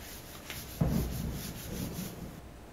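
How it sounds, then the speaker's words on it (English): Light sanding of a wooden floating shelf during a mobile home kitchen remodel, a faint, short rubbing scrape heard close up with no talk. "Clean the glue off and then light sand."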